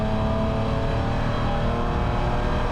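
Condor Speed BMW Spec E9X race car on track at Gingerman, engine droning loud and steady from on board as the driver short-shifts early, a continuous deep exhaust roar.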